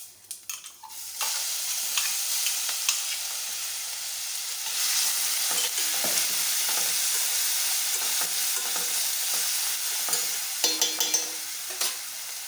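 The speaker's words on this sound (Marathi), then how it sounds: "त्यामध्ये आपल्याला घालायचं आहे जिरं, त्यानंतर हा ठेचा टाकायचा." Cumin and chili thecha sizzle and crackle in oil inside a pressure cooker, a steady close frying hiss with scattered pops and stirring scrapes running alone for about twelve seconds.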